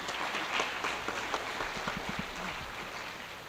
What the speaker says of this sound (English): their parents a round of applause.